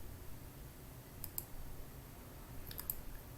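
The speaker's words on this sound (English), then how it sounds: "So I'm going to click here" Computer mouse clicking, with two quick pairs of faint, crisp clicks about a second and a half apart over quiet room noise.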